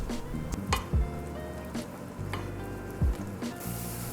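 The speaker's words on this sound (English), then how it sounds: "Then we're going to add in the flour all at once, and then mix until the flour is cooked." Choux dough is stirred in a saucepan over medium heat, with soft repeated scraping and thudding strokes against the pan over a faint background hiss.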